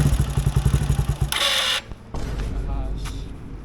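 A motorcycle engine starts with a run of rapid, even chugging pulses, then a loud hissing burst and a short drop before settling into a steady, close, rumbling idle.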